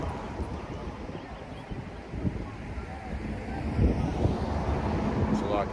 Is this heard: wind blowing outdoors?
yes